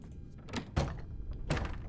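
A locked door in the video game Return of the Obra Dinn gives two separate dull thunks as it is tried, one early and one later, close and fairly loud against a quiet background.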